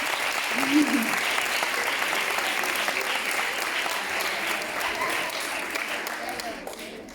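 Audience applause at a talk event, a long steady wash of crowd clapping that tapers off slightly toward the end, with a brief voice near the start.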